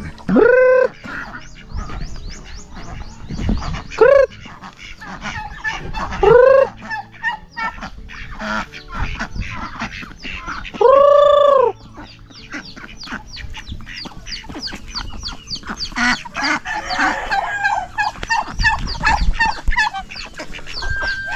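Farm ducks quack and chatter close by in a loud, busy flock, with repeated honking calls standing out over continuous squabbling.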